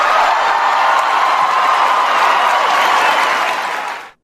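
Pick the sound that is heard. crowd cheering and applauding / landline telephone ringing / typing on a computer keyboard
crowd cheering and applauding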